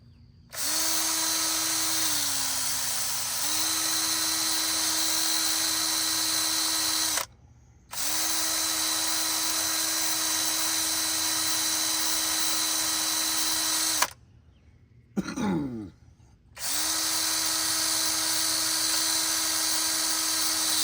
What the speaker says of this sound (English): I have a brush here, I can clean some of that rust off.